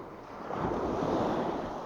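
Sea waves wash steadily onto a clear-water shore at a calm fishing and camping spot, a broad continuous rush that swells midway, with wind noise on the microphone and no talking.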